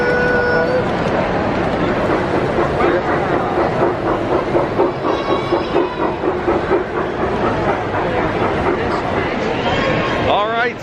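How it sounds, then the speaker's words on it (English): A model train runs on a garden railway display at the Philadelphia Flower Show, its steady rolling rattle and rhythmic clicking surrounded by crowd chatter and voices throughout. "Here comes the train now."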